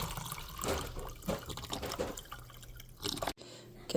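Canned chicken broth poured into a pan, a close, continuous splashing and gurgling pour that ends abruptly, followed by quieter liquid sounds.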